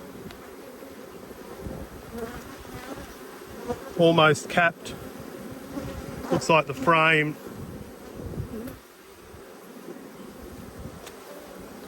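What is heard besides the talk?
bees buzzing around a hive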